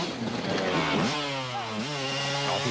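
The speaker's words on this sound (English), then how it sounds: "he is motoring on that KTM" A KTM enduro motorcycle at a race in Riviersonderend roars loudly and steadily, with its pitch swooping as the rider revs up and shifts, and no voices over it.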